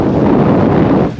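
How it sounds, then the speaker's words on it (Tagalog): Strong wind buffets the microphone outdoors in a scenic landscape at Nagtipunan, Quirino, a loud, steady roar for about a second before easing off. "sarap ng hangin dito eh"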